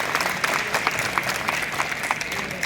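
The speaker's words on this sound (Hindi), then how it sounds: "तालियां इसके लिए।" Students in a school first-aid and disaster-management session break into brisk, steady applause, a dense field of claps at moderate loudness that runs unbroken throughout, with no one speaking.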